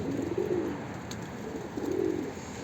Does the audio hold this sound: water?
no